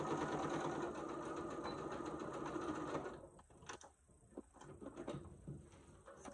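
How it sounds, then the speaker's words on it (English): A sewing machine runs steadily, stitching straight lines across a fabric pot holder made from scraps. The needle hums continuously for about three seconds, then stops, leaving scattered clicks and handling noises. "I'm doing it on the sewing machine so I can show y'all how to do it on here."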